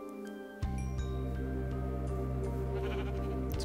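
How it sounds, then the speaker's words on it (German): Sheep bleat in the Minecraft video game, with several overlapping synthetic bleats starting abruptly and continuing steadily, alone without talk. "Jetzt kommen hier noch so Schafe angespawnt."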